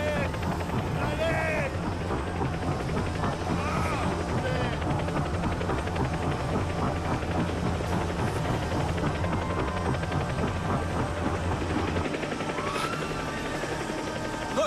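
A rescue helicopter's engine and rotor drone loudly and continuously at a disaster scene, a dense churning roar that persists throughout while people shout and talk over it.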